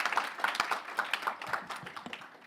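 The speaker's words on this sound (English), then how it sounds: "a warm round of applause for Isa Ding and Taisu Zhang" Audience clapping for two panelists, Iza Ding and Taisu Zhang, at a NEXTChina conference talk. A short, moderately loud round of hand claps with a steady, uneven patter, heard with no talking over it.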